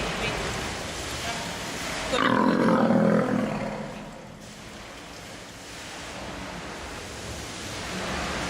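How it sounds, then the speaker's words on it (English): A deep, rough growl swells for a second or so over a steady roaring wash of background noise, then fades back into the rumble. "So there's going to be a large growl in it, so it might be kind of loud"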